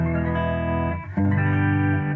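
Clean electric guitar through a Kemper profile of a Fender Twin Reverb amp with no effects or stomps, playing sustained chords with a brief dip between them and ringing harmonics, alone and fairly loud.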